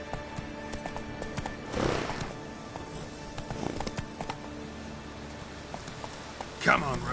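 Roach the horse from The Witcher 3 game, soft hoof clip-clops under a low hum, with a brief whinny near the end and a voice speaking in between.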